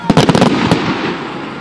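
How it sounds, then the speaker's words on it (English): Canada Day 2016 fireworks go off in a quick cluster of sharp, loud bangs, followed by a long rumbling decay. "Are these fireworks falling on me?"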